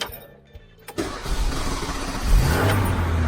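A 1983 Renault Trafic campervan engine cranks briefly after a quiet moment, then catches at about one second and settles into a steady, loud idle with a slight rise in revs near the end.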